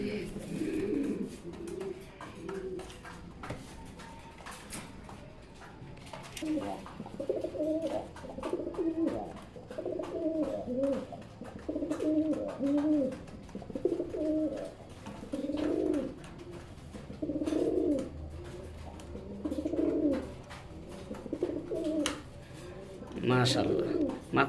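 A pair of deshi king pigeons coo in a steady run of rhythmic, throaty phrases repeating every second or so over a low background murmur, fairly close.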